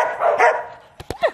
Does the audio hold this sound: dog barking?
yes